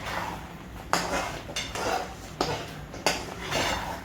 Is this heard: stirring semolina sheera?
yes